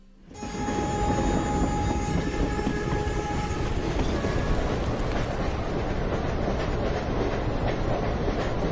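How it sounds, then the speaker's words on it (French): A green stopping train runs on rails through poor mountain country, a loud, close, continuous rumble with rhythmic clatter and a long tonal horn-like whine at the start. "dans certaines régions montagneuses pauvres, des trains omnibus verts continuent de desservir toutes les gares"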